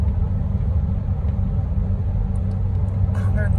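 An Audi Q7 TDI cruises on the road, giving a steady, close, low engine and road rumble from inside the car with no sharp changes.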